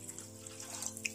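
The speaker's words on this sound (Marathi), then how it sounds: "या ग्लासना आपण पाणी घालणार आहोत, साधारणतः 3 ते 4 ग्लास पाणी मी घालणार आहे" Water is poured from a glass into bajra flour for papad dough, a brief, faint trickle and splash lasting about a second.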